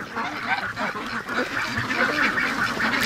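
A flock of penned free-range ducks quacks continuously in a noisy, overlapping chorus, moderately close.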